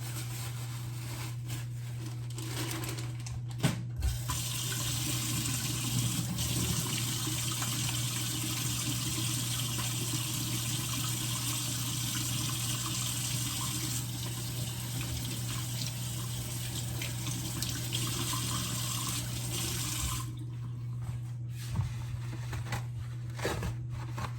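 Tap water runs steadily into a kitchen sink as frozen chicken is rinsed under it, a continuous splashing stream with brief breaks near the start and end, heard alone.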